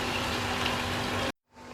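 Steady bubbling and hiss of mutton simmering in water in a karahi on the stove, filling the first part before cutting off sharply, then returning faintly.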